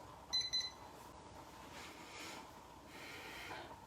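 A short electronic beep rings out near the start, followed by quiet room noise and soft breathy sounds.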